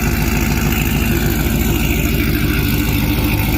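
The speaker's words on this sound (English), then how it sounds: "My favorite exhaust I've ever done is this AWE exhaust for these Rams. Yes, it's extra loud." A supercharged Ram pickup truck runs with a loud AWE exhaust, giving a deep, steady, throbbing engine rumble close by with no talk.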